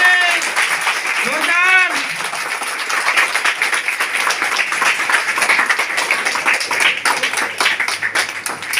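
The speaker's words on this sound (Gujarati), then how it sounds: "સ્વાગત આટલી તાળીથી નહીં ચાલે" Audience applause welcoming a Swaminarayan swamiji at a Jamnagar gathering: steady dense clapping from a crowd running throughout, with someone speaking over it.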